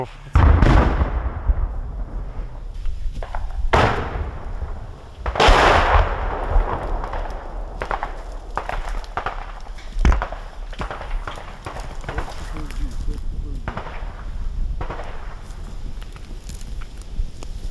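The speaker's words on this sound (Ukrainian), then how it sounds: "Чуєте, стріляють." Scattered gunshots crack out at irregular intervals, some sharp and nearby, others distant, over footsteps and rustling movement, in a village battle between Ukrainian and Russian troops.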